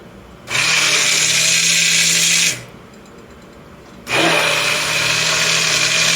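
Kitchen blender puréeing cooked tomatoes for a sauce, running in two loud whirring bursts separated by a short pause, close and alone.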